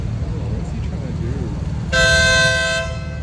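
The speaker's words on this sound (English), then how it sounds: "Sorry about the honking." Car horn blaring on a busy Los Angeles street, one sustained honk of about a second rising out of steady traffic rumble, with people talking nearby.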